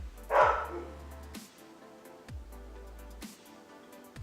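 A dog barks once outdoors, fairly near and loud, then goes quiet; faint scraping and handling noises carry on through the rest.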